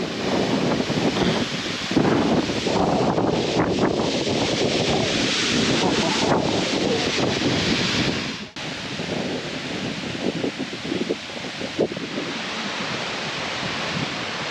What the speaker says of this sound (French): Una de las cascadas más chimbas que hay en Colombia